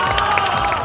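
A short burst of audience applause at a performance by a traditional Chinese music ensemble with erhu and pipa players, a dense patter of clapping hands at steady loudness.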